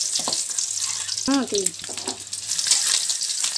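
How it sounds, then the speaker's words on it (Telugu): Halved boiled eggs frying in oil for egg biryani, turned over in the pan, with a continuous close sizzle, a few clinks of the utensil, and a brief voice midway. "ఇలా బాగా తిప్పుకోవడం వల్ల మొత్తం ఎగ్ చుట్టూ గోల్డెన్ కలర్ వస్తుంది"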